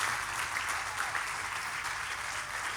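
Steady, sustained applause from a church congregation, dense clapping filling the room evenly from start to finish without pause.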